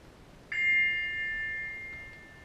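A single bright text-message notification ding rings out in a stage production, a clear close chime that sustains and slowly fades over two seconds in an otherwise quiet room.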